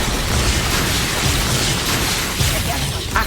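The Expulso explosion spell goes off in a Hogwarts Legacy duel, a loud, dense blast that fills the whole moment with a thick, roaring burst and crackling debris continuing for several seconds.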